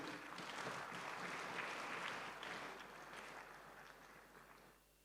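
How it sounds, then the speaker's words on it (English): Steady applause from an audience at a business conference talk, a dense wash of clapping that holds for several seconds, then tapers off toward the end. "Can you please give yourself a round of applause by being here?"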